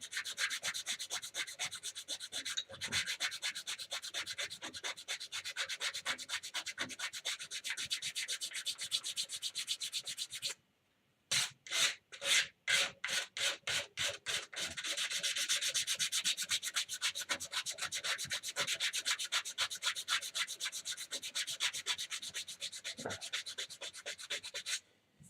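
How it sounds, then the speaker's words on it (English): A wood turning is sanded with continuous close rubbing and scratching. After a short silence comes a burst of rhythmic back-and-forth strokes, then the steady sanding resumes. "I could sit and sand forever anyways"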